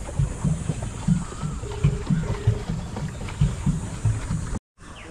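A rowboat glides across a lake at Sanjay Gandhi National Park, with rhythmic splashes and creaks of oars repeating steadily up close over breezy outdoor background noise, ending with a brief dropout.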